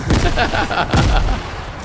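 Grenades go off in a Fortnite match: two loud, close blasts with heavy low rumble, one at the start and one about a second later, with a softer crackling tail.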